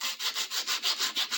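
Sandpaper rubbed by hand over a workpiece in quick, even back-and-forth strokes, about ten rasping passes in a steady rhythm, close and fairly quiet with no talk.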